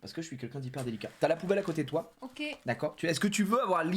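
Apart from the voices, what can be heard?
No everyday noise stands out behind the speech.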